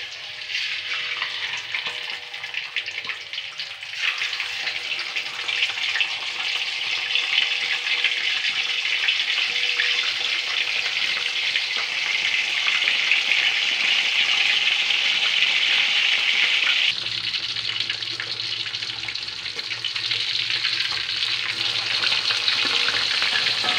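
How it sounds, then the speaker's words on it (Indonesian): Ikan emas fish frying in hot oil in a pan gives a loud, continuous sizzle and crackle close up, shifting in texture partway through as the fish settles, with no voices. "Nah, saya akan menggorengnya ya."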